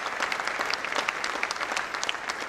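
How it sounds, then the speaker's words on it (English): Applause from an audience for teachers at a school stage event, a dense, steady patter of many hands clapping throughout, fairly close and without talk. "you actually deserve a big, big round of applause from everyone"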